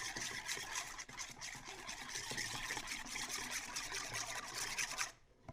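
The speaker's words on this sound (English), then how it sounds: "We're going to stir all this together, our wet ingredients." Wet granola bar ingredients being stirred together in a bowl, a continuous close scraping and swishing rub that cuts off at the end, with no voices.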